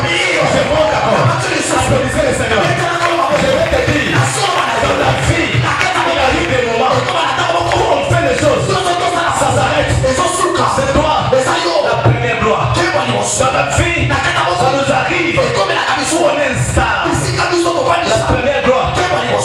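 Church congregation applauding the Lord during a French-language sermon, a dense, steady wash of clapping with scattered cheers and whoops filling the room continuously at high volume.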